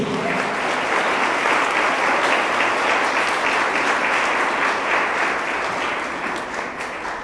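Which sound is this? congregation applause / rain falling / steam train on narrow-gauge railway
congregation applause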